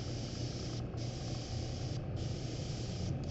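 An airbrush sprays dye onto a leather purse flap in a steady close hiss, with three short breaks where the spray stops and starts again.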